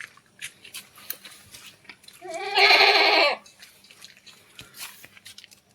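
Kathiawari goats at a night-time sale, with one loud, clear bleat lasting about a second standing out above quieter background noise.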